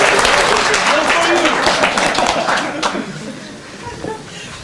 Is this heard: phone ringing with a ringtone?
no